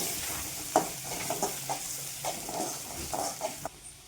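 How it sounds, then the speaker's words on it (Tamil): Crushed garlic fries in a pan for a potato masiyal, a steady close sizzle with occasional scraping stirs and light pan knocks, with no talking. "இந்த பூண்டு வாசனை நல்லா வந்து வர நல்லா ஃப்ரை பண்ணிவிட்டு"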